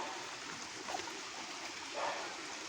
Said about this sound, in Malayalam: നമ്മൾ മുകളിലോട്ട് കയറി പോകുമ്പോൾ ഇതുപോലെ വെള്ളം ഒഴുകി പോകുന്നത് നമുക്ക് കാണാൻ കഴിയും.